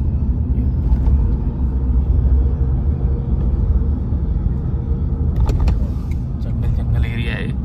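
A car driving slowly at night along a road through a forest area, a steady low rumble of engine and tyres throughout, with faint higher clicks and rustles toward the end.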